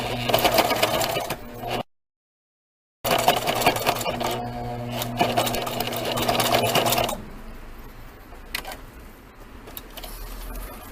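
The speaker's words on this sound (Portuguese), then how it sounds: "Eu dei um recuo aqui e voltei, mas se você quiser, você pode passar a costura inteira" A home sewing machine runs in a steady rapid stitching whir while sewing a fabric wallet, pausing briefly for a backstitch and then resuming before the motor stops, leaving quieter handling noise and faint room sound, close-up with no talk.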